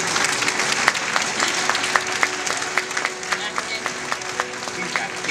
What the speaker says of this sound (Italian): L'applauso duri almeno un quarto d'ora